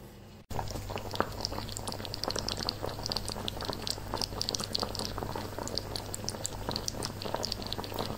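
Tomato sauce for arrabiata, made from passata or leftover tomato sauce, simmers in a pot with steady bubbling and popping that starts abruptly after a brief quiet moment and continues close and evenly throughout.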